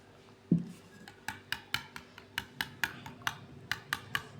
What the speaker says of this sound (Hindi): पहले ये डाल के मैं इसको मिक्स करूँगी, पुदीना और सब्ज़ मिर्च